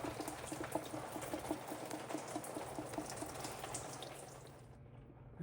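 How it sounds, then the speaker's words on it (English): Coolant trickles and drips from a loosened thermostat hose on a Jeep Wrangler JK with a 3.6 engine, a faint steady splashing patter of liquid that thins out and stops near the end. "It's already slowing down to a drip right now."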